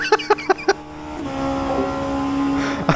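An Oreca LMP2 racing car engine in rFactor 2 at Le Mans roars steadily with a high mechanical whine after a few short bursts of sound at the start, loud and close.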